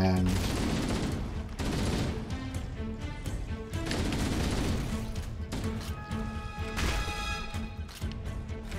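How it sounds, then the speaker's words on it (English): Shotgun blasts and chaotic combat in Halo, repeated loud bursts and crashes in quick succession over a dense game soundscape, with a voice talking in between. "On the upside, the shotgun is doing its job very well."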